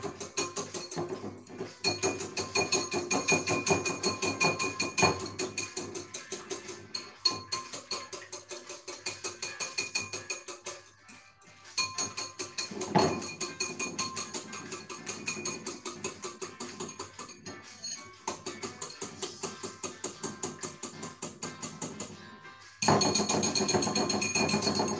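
Ingredients for a Nigerian fish pie being whisked in a bowl, a fast steady clinking rattle of the whisk against the bowl that goes on for about twenty-five seconds with brief pauses.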